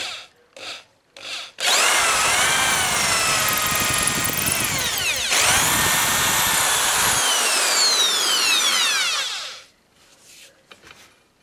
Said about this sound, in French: je vais prendre une mèche de 5 pour réaliser les deux tubes de chaque côté